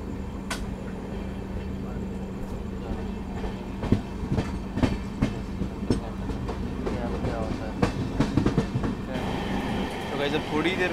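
An LHB-coached Garib Rath Express pulls out of Jalandhar City, its wheels beating a steady clickety-clack on the rails with a constant rumble and sharp joint clicks, loud and close from inside the train.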